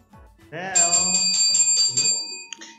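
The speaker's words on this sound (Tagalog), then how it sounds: "feeling ko may magbe-bell" A bell rings during a live online game show, a sustained bright chime with clear ringing overtones lasting about two seconds, heard over voices and background chatter.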